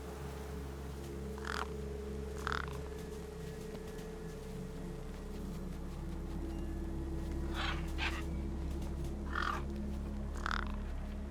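Crows caw in short, separated calls over a steady low hum in the video game Beyond a Steel Sky, the caws spread out across the scene and moderately distant.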